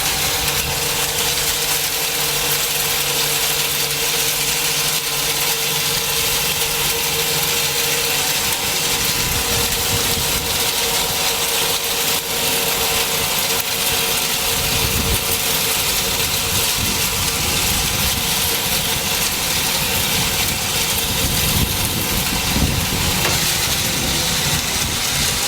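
A large electric motor drives a universal grain crusher, giving a loud, constant mechanical hum and rattle that runs unbroken for the whole stretch without speech.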